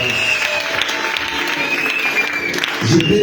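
A church congregation at an Easter Sunday service claps and cheers for the Lord, a steady dense wash of applause with voices rising over it throughout.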